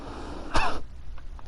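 A single short cough from a person playing Minecraft, close to the microphone and over quiet room tone.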